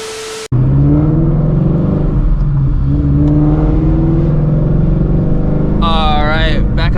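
Ford Shelby GT350 with a newly fitted twin disc clutch, its engine droning loud and close from inside the cabin as it drives and revs, with a person talking over it.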